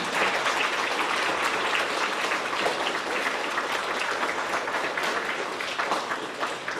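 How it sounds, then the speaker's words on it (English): A school audience applauds the teachers at a grades 4–6 awards ceremony, dense steady clapping from many hands filling the room, loud and sustained before tapering slightly near the end. "I think we need to give these guys a round of applause"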